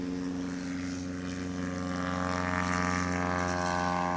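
A STOL plane at the Swamp STOL competition in Jennings, Louisiana holds a loud, steady propeller engine drone that builds slightly in intensity as it powers up for takeoff.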